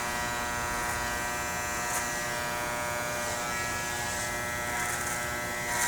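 Electric clippers buzz steadily while trimming a beard, a constant close motorized hum with faint variations as the blades move, no talking.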